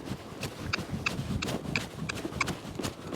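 A horse's hooves clip-clop across the ground of a riding arena in an irregular trot, fairly close, moving away over a low rumbling background.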